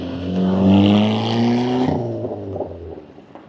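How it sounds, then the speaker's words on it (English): Close by on a town street, a car engine drones and slowly drops in pitch as it pulls into a service station, then fades into quieter roadside ambience. "Car doesn't sound that crash hot anymore."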